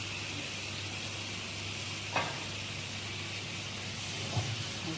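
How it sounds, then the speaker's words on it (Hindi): Spice masala for mutton chops fries steadily in a pan with an even, continuous sizzle, broken by a couple of faint stirring scrapes. "हम इसको फ्राई करेंगे जब तक कि इसका कच्चापन ना निकल जाए"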